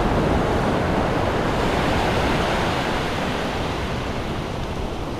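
Ocean surf breaking steadily on the shore at Micklers Beach, a loud, continuous wash of waves and rushing water heard up close with some wind buffeting, no voices.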